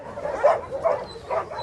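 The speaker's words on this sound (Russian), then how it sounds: "хорошая собачка" A dog at an animal shelter gives three short, close barks with a whimpering, yipping edge, spaced evenly apart with no talking.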